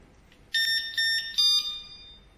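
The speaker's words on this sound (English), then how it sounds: "it's 3 beep, and now the motherboard is switched to high-speed mode" Three short, bright electronic beeps in quick succession from an electric skateboard remote switching to high-speed mode, each a high tonal chirp, clear and close against a quiet background.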